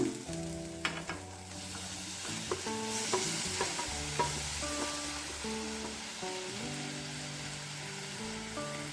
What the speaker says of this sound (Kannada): ಟೊಮೆಟೊ ಕೂಡ ಚೆನ್ನಾಗಿ ಫ್ರೈ ಮಾಡ್ಕೊಳ್ಳೋಣ